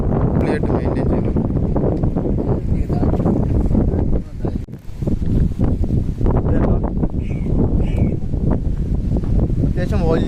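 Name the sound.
large passenger launch boat 'Crystal Speed' cruising at sea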